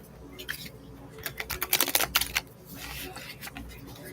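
Tarot cards being shuffled close up, a quick riffle of crisp flutters and snaps building in the middle, with soft background noise.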